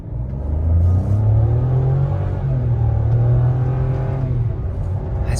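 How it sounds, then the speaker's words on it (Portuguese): Chevrolet Montana Premier pickup accelerating hard from a start, a loud, sustained engine rumble climbing steadily in pitch over several seconds, heard close from inside the cabin with no talking. "Vou fazer uma saidinha meio pé fundo pra gente sentir um pouquinho do que é esse carro."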